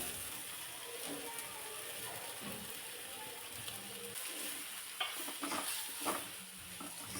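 Vegetable masala with yogurt and homemade red chili sautéed in a pan, a steady soft sizzle with scraping and stirring clatter that grows busier toward the end.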